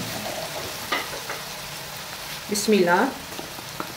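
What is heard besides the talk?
onion and garlic frying in a pan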